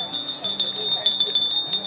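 A small ornamental brass bell at an exhibition sale stall is rung repeatedly, giving bright, sustained metallic rings in a quick pulsing run while people talk over it.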